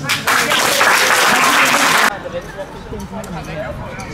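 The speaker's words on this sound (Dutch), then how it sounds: "Ga staan voor de applaus." Crowd applause at a Special Olympics ceremony honoring medal winners, loud dense clapping for about two seconds that cuts off abruptly into quieter room murmur.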